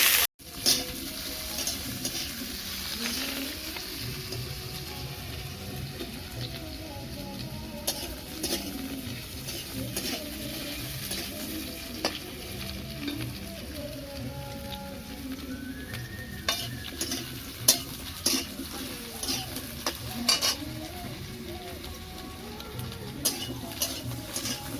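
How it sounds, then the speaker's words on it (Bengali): Potatoes fry in hot oil for papad dalna, with a continuous crackling sizzle heard close, punctuated by frequent spatula scrapes and clinks against the pan throughout. "একটু তেল দেবো, গরম হয়ে গেছে, আর আলুটা দেবো, আর কিছুক্ষণ ভেজে নেবো।"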